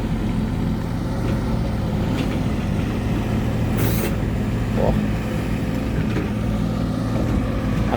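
A Sumitomo SH130-6 excavator, about 13.5 tons with an Isuzu engine and Kawasaki hydraulic pump, rumbles steadily at a pond dig site. Its deep engine drone continues alone without a break.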